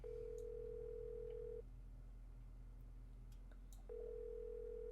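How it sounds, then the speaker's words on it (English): A telephone rings unanswered in a Nancy Drew game, two long steady tones separated by a pause of about two seconds over a low background hum, with no voices. "Phone rings, but no one answers."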